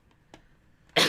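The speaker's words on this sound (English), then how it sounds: "I have a cough" A single sharp cough bursts out near the end after a few faint clicks and rustles in a quiet room.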